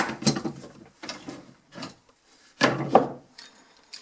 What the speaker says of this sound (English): A little hand sanding to do